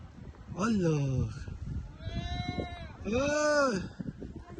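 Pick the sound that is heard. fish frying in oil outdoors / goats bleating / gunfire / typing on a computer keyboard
goats bleating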